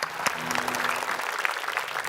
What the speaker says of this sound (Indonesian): Tepuk tangan untuk semua yang sudah merayu.